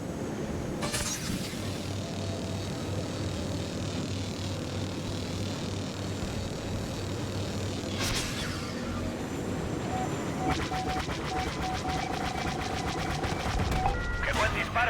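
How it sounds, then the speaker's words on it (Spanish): Blaster fire from starfighters in a Star Wars Squadrons space battle, sharp bursts of shots breaking through a constant engine roar and dense game effects, with chatter from voices over the action. "¡Qué buen disparo!"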